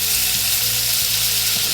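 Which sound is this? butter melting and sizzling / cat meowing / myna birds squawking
butter melting and sizzling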